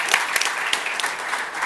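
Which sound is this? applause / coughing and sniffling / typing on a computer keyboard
applause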